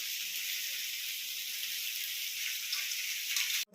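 Food sizzling in a pan on a small gas stove, with everything cooked in an iron kadai: a bright, continuous close sizzle that stays steady, then cuts off abruptly near the end.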